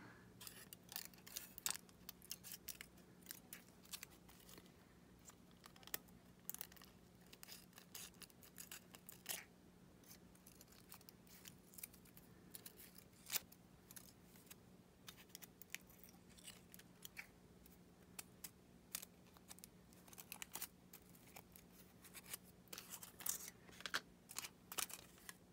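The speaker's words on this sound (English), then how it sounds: "And there's the scissors." Scissors snip quietly through paper and foil at a crafting table, making soft intermittent clicks and cuts scattered over a low steady hum.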